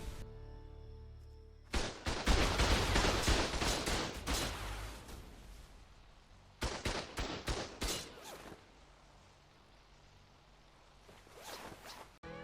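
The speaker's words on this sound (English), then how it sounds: "turrets were still shooting me" Base turrets fire in the survival game Ark, two loud clusters of rapid crackling gunfire bursts separated by a quieter stretch, with a last short flurry at the end.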